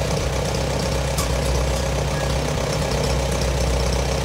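A vehicle engine idles steadily with the choke off after a throttle linkage adjustment, a loud, even, low rumble with a smooth, regular beat throughout, close to the microphone.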